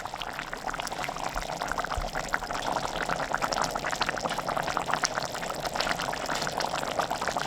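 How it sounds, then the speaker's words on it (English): A pan of chilli onion relish bubbles at a hard boil, a continuous soft popping and gurgling texture heard alone at a moderate, steady level. "So once it's been boiling like that for 10 minutes, just going to keep stirring it"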